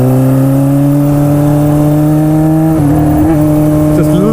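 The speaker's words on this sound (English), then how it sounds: "Listen to the carburation from those quad carburetors." A 1979 Honda CB550 cafe racer with quad carburetors and no muffler idles loud and close with a steady rumbling drone, then blips the throttle a few times near the end.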